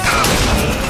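A thrown mousetrap device explodes in BioShock Infinite: Burial at Sea, a loud, dense burst of booming, crackling blast noise filling the whole second.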